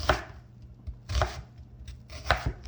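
A knife chops an onion on a cutting board for steak fajitas, giving three distinct woody thuds with faint clicks between them, close and quiet with no voices.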